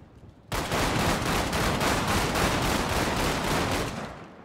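Sustained automatic gunfire in a GTA 5 roleplay video game, a loud rapid burst that kicks in abruptly after half a second of quiet and keeps up a fast, regular rattle for about four seconds before tapering slightly at the end.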